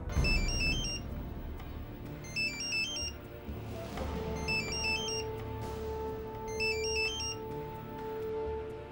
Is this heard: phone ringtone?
yes